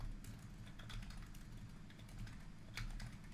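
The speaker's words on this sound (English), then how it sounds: "I type out text style" Soft, quick keystrokes tap on a computer keyboard in a quiet room, in short irregular bursts.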